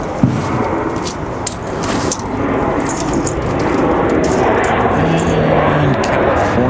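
An airliner landing on the runway at Raleigh-Durham airport, a broad rumbling roar that swells and holds steady, heard from a distance with a thump near the start.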